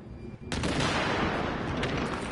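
Heavy gunfire in The Division bursts in after a brief pause, a dense loud continuous volley of shots filling the rest of the moment.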